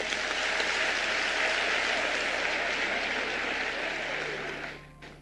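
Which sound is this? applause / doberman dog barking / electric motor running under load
applause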